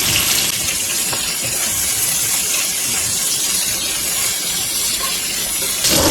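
Bell pepper frying in a pan gives a loud, steady hiss and sizzle that keeps going without a break and stays close.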